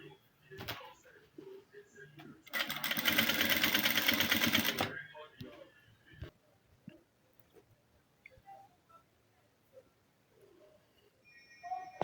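A sewing machine stitches agbada fabric in one rapid, steady burst of about two seconds, close and loud against a quiet room, with scattered faint clicks and handling noises around it.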